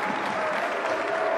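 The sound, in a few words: applause in the French National Assembly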